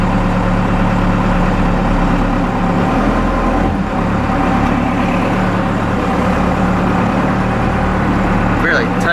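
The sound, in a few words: 4BT Cummins diesel engine revving with throttle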